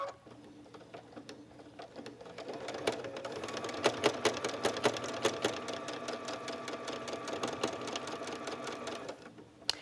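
A sewing machine stitches an appliqué piece in a quilting studio with a fast, even mechanical rattle that starts quiet, grows louder after a couple of seconds, runs steadily and then stops abruptly near the end.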